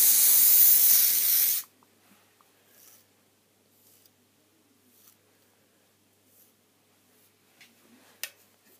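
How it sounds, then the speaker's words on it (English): Hairspray hisses from an aerosol can onto styled hair in one loud, steady burst lasting about a second and a half, followed by near silence with faint rustles and a small tap. "The back may need more hairspray depending on the front"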